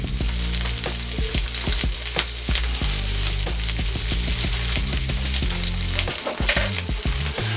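A meatloaf sandwich sizzles loudly in a hot pan while its bread toasts, a steady crackling fry with scattered sharp pops throughout.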